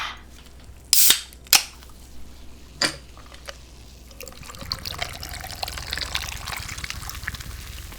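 A can of cola is opened with a couple of sharp pops and cracks, then poured into a glass, giving a long, close, fizzing trickle and hiss that fills the second half, with no speech.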